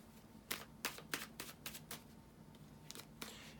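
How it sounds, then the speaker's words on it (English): Tarot cards are shuffled with a series of crisp riffling bursts, about eight quick flutters in a loose rhythm, near and fairly quiet with no talk. "So let me finish the shuffling here."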